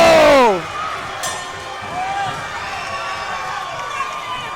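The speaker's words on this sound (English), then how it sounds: "You can hear the Houston crowd cheering, kind of questioning, hey." Houston home crowd roars in a steady wash of cheering at a Team Combat League fight between the Orlando Vipers and Houston Hitmen, mostly held under commentators' voices after a loud opening burst.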